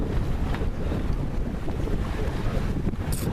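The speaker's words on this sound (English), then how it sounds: "Still running a reefed jib and a full mainsail. And doing a comfortable 5 to 6 knots depending on the wind" A sailboat under way with a reefed jib and full mainsail, moving at five to six knots in a 13 to 16 knot breeze, gives steady wind buffeting on the microphone over continuous water rush and wave wash along the hull.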